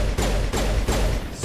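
Gunfire in Mass Effect comes as three heavy, evenly spaced bursts, loud and close with thudding impacts and short gaps between them.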